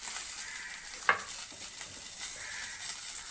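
Garlic, asafoetida and ginger frying in hot oil in a pan for kara dosai, a steady close sizzle with a brief stir.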